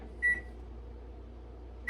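A microwave oven hums steadily at half power, with a short electronic beep near the start and another at the end, faint and close by, no voices.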